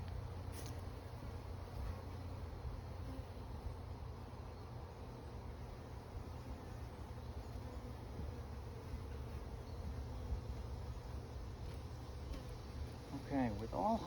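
Honeybees hum and buzz around a backyard hive during an inspection, a steady faint drone close by with a few louder passes near the end.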